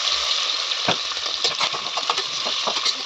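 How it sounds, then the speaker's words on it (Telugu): Capsicum and beetroot are stirred in a hot pan over a bright, continuous sizzle, with soft scraping strokes of a spoon repeating close by. "క్యాప్సికమ్, బీట్రూట్ అన్నీ ఒకసారి వేసుకోవాలి. వేసి దీన్ని చక్కగా కలుపుకోవాలి."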